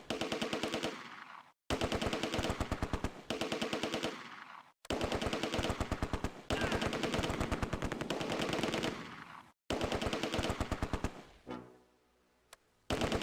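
Heavy automatic gunfire in the WWII strategy game Close Combat: A Bridge Too Far, set in farmland during Operation Market Garden: long loud bursts of rapid machine-gun fire separated by short gaps, ending with a fading rumble and quieter shots.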